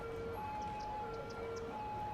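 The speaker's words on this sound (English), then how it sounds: "don't you just hate the freaking sirens, like, all the time?" Emergency sirens in the city-building game Cities: Skylines wail in sustained, shifting pitched tones, fairly faint and continuous against a low background hum.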